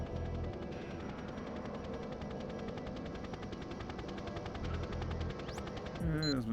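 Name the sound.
helicopter in video game GoldenEye 007 (N64)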